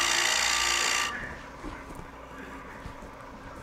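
A turning tool cuts a spinning wood blank on a lathe at a woodturning event, giving a loud, steady rasping hiss for about a second before it stops abruptly, leaving quieter room noise and faint knocks.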